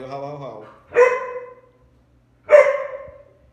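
A dog gives two loud, separate barks about a second and a half apart, preceded by a drawn-out whining vocal sound.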